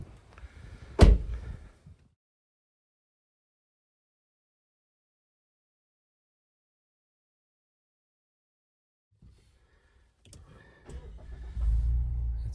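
A low-mileage 2023 Mazda CX-8 Touring SUV gives a sharp door thud, then near silence, then its engine cranks and catches into a low, steady idle, heard close up.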